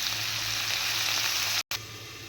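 Potatoes, garlic and onion sizzle in a frying pan with a continuous bright crackling hiss, close up, cut by a brief silent gap near the end.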